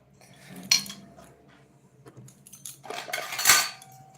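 Metal offering plates are handled and wiped with a cloth, with a couple of close metallic clanks and clinks of plates knocking together amid soft rubbing.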